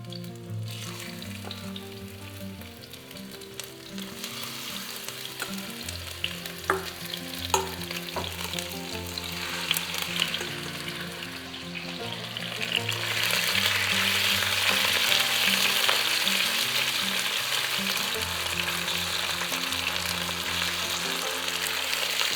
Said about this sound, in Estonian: ja praeme kana